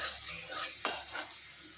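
Onions frying in a pan, a continuous soft sizzle with scraping stirs and one sharp clink of a utensil against the pan partway through, close and alone with no voices.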